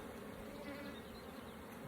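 Honeybees buzzing in an opened hive, a steady, close, continuous hum with no voices, holding even loudness throughout.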